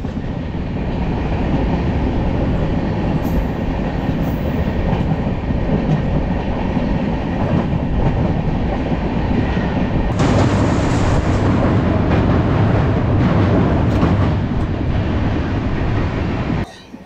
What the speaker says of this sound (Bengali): ট্রেনটা এখানে খুব আস্তে আস্তে যায়